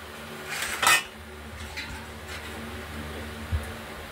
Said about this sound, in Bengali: প্রেশার কুকারের ঢাকনাটা লাগিয়ে দিলাম